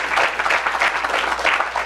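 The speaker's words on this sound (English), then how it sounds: "Let's give Dr. Freeman a great big round of applause." Audience at a keynote gives a big round of applause for an honoured guest, close, loud, steady clapping with pulsing swells across the whole short stretch.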